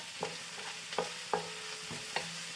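Garlic sizzles in very hot oil while a utensil stirs it, giving a soft, close frying hiss broken by about five sharp scraping strokes spaced under a second apart.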